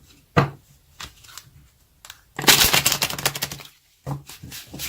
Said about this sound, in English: Doesn't want to shuffle.